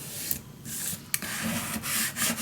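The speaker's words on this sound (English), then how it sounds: "Then I go in with my scraper these little corners, and then I'm doing it again, folding it in and scrape to the middle." A plastic scraper rubs and scrapes over self-adhesive vinyl, folding corners in and pushing to the middle: close, dry rasping strokes in short repeated passes with brief gaps, no talking.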